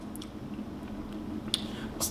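Udon noodles are chewed close to the mic during a mukbang, soft wet squishing mouth sounds with a couple of sharper slurps or clicks near the end, faint and intimate.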